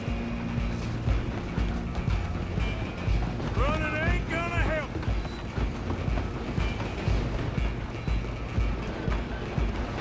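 A train rolls along the rails in Red Dead Redemption 2, a steady loud rumble with clattering wheels running throughout, while voices shout over it.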